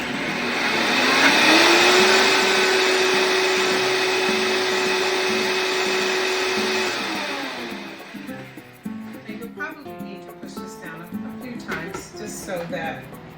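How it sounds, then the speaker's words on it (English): A kitchen blender runs loud and steady for several seconds blending fresh basil pesto from a home garden, its motor pitch holding level, then cutting off into quieter clatter and handling noises. "So that it all gets blended in nicely."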